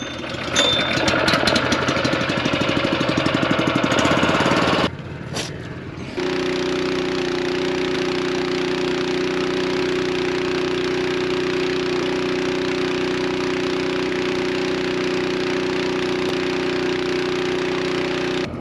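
A small pull-start pump engine catches after one pull, a brief burst and a short dip, then settles into a steady, loud, even drone that runs without a break, with no voices.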